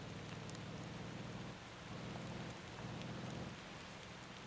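Steady rain pours in the driving game Motortown Behind the Wheel, a dense, continuous hiss with a low rumble beneath it and no voices.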